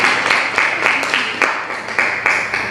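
A classroom of students applauds a group during a school science project lesson, clapping in regular, evenly spaced bursts about twice a second, close and moderately loud.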